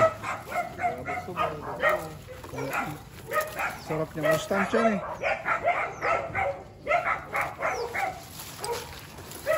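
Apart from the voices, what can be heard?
dogs barking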